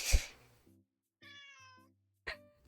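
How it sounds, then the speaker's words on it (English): A kitten meows up close, a handful of clear, tonal calls with short pauses between them and no talking. "Why are you meowing?"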